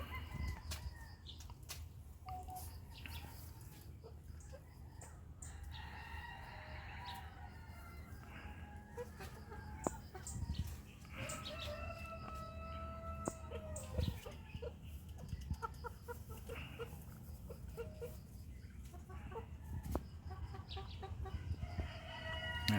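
Polaco and light Brahma chickens, large-breed fowl out in a grassy range, cluck and call intermittently at close range, with occasional wing flaps and a faint voice in the background.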